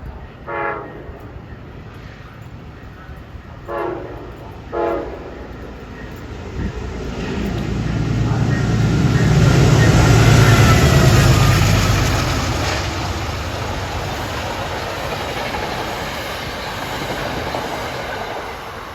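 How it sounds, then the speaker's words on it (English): A train horn sounds a few times in the distance, then a Metro North commuter train rumbles past up close at Riverdale, its roar building and fading with rail clatter. "Here comes train 839, Grand Central Poughkeepsie."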